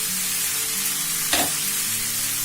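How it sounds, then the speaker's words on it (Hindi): Vegetables and mushrooms are stir-fried on high flame, sizzling loudly and steadily, with a single sharp toss or scrape of the pan partway through. "ये इसे स्टर करते रहना है, कुक करते रहना है, टॉस करते रहना है"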